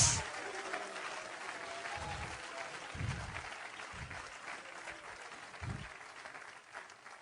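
A church congregation applauds steadily, a dense wash of many hands clapping at moderate distance with a few louder low thumps, sustained throughout and slowly fading toward the end.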